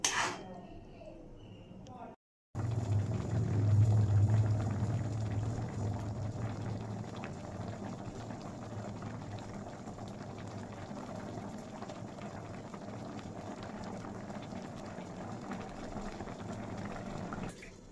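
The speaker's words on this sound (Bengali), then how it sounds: "এবার একটু ফুটিয়ে নেব।" Palm-flavoured patishapta pitha simmers in boiling milk in a pot, a steady bubbling and seething that holds evenly after a brief pause at the start, with a low hum underneath.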